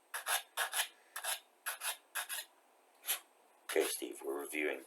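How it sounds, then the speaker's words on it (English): Short rasping strokes of grinding down a mark on a plastic B-29 Superfortress model kit part, about eight rhythmic scrapes, close and quiet, followed by a louder rubbing burst at the end. "I'll have to grind that down."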